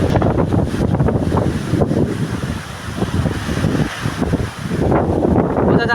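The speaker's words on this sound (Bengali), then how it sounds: "দেখুন আপনারা কি ঝোড়ো হাওয়া হচ্ছে, কি বাতাস হচ্ছে।" Strong, gusty wind ahead of Cyclone Remal roars loudly and continuously against the microphone, with rustling and rushing noise that dips briefly before surging again.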